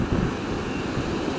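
Ocean surf on a rocky beach at Navarro By The Sea, a steady broad wash of waves with wind noise, continuous and fairly close for a short stretch.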